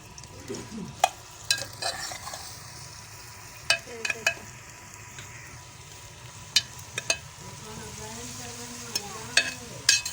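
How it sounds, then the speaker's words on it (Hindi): Onions frying in a pan while being stirred, giving a low steady sizzle with sharp scraping clicks and clatters of the spoon scattered throughout, close by and without talk. "ये प्याज डाले जा रहे हैं।"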